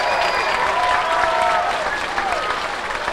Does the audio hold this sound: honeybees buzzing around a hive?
no